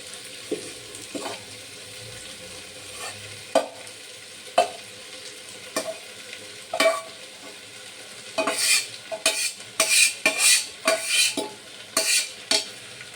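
A spoon stirs cooked rice and vegetables together in a hot pan, with repeated scrapes and knocks against the metal over a low, continuous sizzle. The strokes grow busier and louder toward the end.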